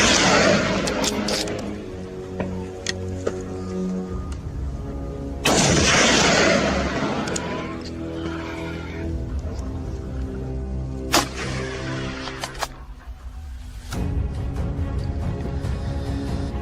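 Volleys of gunfire during a hog hunt, with sharp close shots and dense bursts of booming reports over a steady background rumble, some shots sounding alone and others in rapid clusters.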